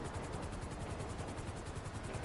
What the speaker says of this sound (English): I'm going to wait until the helicopter's almost landed